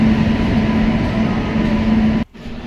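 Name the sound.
express train entering station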